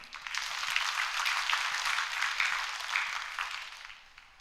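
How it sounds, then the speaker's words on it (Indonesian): A church congregation clapping during a Sunday service, steady applause from many hands in a room that swells and then fades after a few seconds. "Boleh tepuk tangan?"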